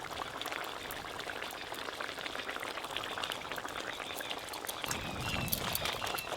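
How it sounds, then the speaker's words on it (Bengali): Garam masala paste mixed with water is poured into a simmering wok, a steady bubbling hiss with soft liquid splashes that swell slightly louder near the end, heard close with no talk. "এই যে গরম মশলা বাটা আছে, জল দিয়ে একটু ভালো করে মিশিয়ে কড়াতে দিয়ে দেবো"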